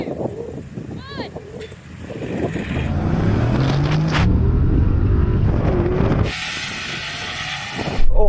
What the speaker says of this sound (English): we're going to drag race to the cone, which is quickest to 50 metres